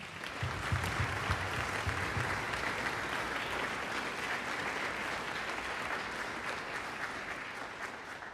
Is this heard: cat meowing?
no